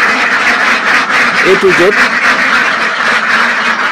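Ducks quack in a short burst on a Bangladeshi duck farm housing laying ducks, faint and brief beneath someone talking over a steady background hiss.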